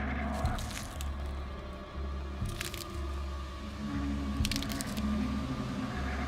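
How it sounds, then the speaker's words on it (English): Crunching of pine needles outside a tent at night, a few slow separate crunchy footfall-like bursts over a low steady droning background, fairly close and quiet. "That familiar, awful sound. The crunch of those needles."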